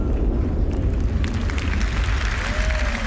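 Massive MOAB bomb explosion in the Star Citizen game, a sustained loud roaring rumble with crackling debris and a rising whine near the end, heard from a distance.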